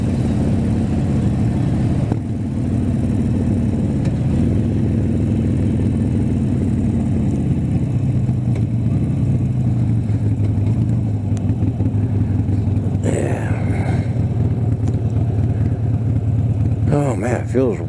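A motorcycle cruises along a wide open highway, its steady low engine drone mixed with constant wind rush. The engine pitch shifts slightly at times.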